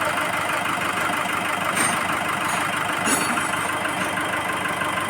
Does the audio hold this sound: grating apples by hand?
no